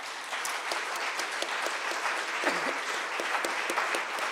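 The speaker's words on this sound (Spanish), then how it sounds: "Demos un aplauso al Señor" Church congregation applauding for the Lord during a Spanish-language worship service, a steady wash of many hands clapping at moderate distance, fairly soft and continuous without talk.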